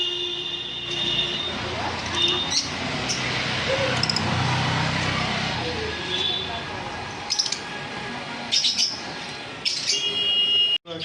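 Caged cockatiels, conures and java sparrows chirp and tweet at a bird sale, scattered calls over a busy crowd with someone talking and occasional clinks nearby.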